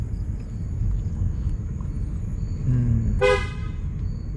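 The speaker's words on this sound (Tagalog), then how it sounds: "Lagi si busina." A single short car horn toot sounds over the steady rumble of a car's engine on a steep downhill road in Bohol, close and clear against the motor noise.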